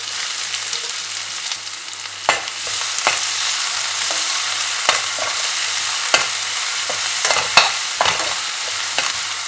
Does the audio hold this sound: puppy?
no